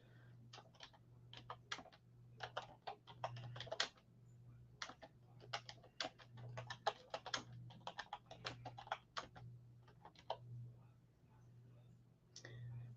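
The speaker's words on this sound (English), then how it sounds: "I'm going to type it out before I even give you guys the totals." Fast, irregular bursts of typing on a computer keyboard, close and fairly quiet, clicking in quick runs with short pauses, over a steady low hum and with soft speech nearby.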